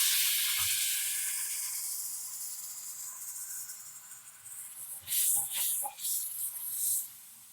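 Tamarind water poured into a hot pan for ginger curry hits with a sharp sizzle and hiss, bursting out loudly near the end after a steady fading hiss.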